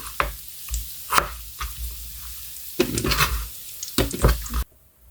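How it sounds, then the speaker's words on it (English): Bacon frying in a pan at home, a steady close crackle and sizzle with intermittent scraping and stirring knocks, ending abruptly. "chop up the bacon, make the potatoes, and mix some egg into it"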